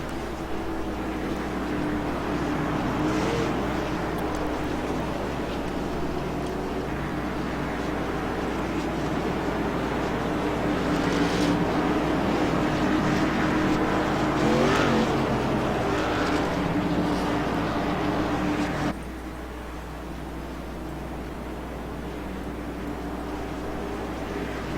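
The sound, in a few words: race cars running pace laps behind the pace car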